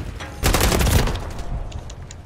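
Rapid automatic gunfire from the video game Call of Duty: Modern Warfare 3 bursts out loud and close in a quick string of shots, then fades to a few scattered clicks.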